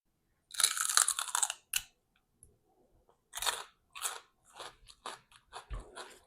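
Raw celery being bitten and chewed up close, a loud crisp snap followed by a series of sharp crunching chews in an irregular rhythm with quiet gaps between, and no talk.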